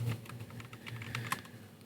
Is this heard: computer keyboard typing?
yes